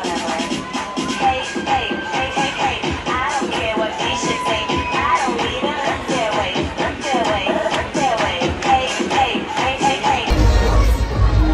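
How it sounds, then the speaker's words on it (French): Large stadium crowd of over 4,000 at an evening rugby match, loud and sustained cheering and clapping with whoops throughout, no clear speech on top. "Tous les applaudissements, s'il vous plaît."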